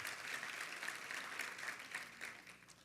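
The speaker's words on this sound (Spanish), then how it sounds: "Denle un aplauso a ellos." Church congregation applauding after the pastor asks for a round of applause: a sustained, moderately distant patter of many hands clapping, steady for the whole stretch and fading slightly at the end.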